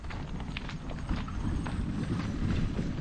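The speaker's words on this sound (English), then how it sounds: "There go the horses off that direction with the hay." Horses walk past while hauling hay at a recreated 1800s village, their hooves clip-clopping in a steady outdoor rhythm under a broad background rumble. The sound holds throughout at moderate loudness.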